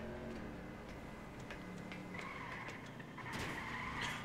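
Faint video game car tires screech and skid in short bursts over a low, continuous engine hum, with a sharper squeal near the end.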